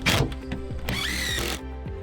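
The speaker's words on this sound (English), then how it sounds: "Now go around and put in all the remaining screws." Power drill driving screws into a hunting blind panel, a short sharp whine rising and holding for about a second before cutting off, with a quick burst at the start.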